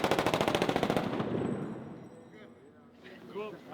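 Guns are test-fired on a film set: a rapid automatic burst of loud shots rattles for about a second, then fades into a ringing echo and background murmur.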